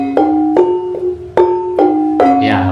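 Metallic Sundanese gamelan demung bars struck one at a time in a slow melody, about six ringing notes with sustained shimmering tones, played alone and close.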